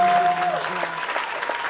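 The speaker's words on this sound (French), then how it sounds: "J'aimerais qu'on acclame le Seigneur." A church congregation applauding together in praise, a dense sustained clatter of clapping filling a short stretch, with a held tone ringing briefly at the start.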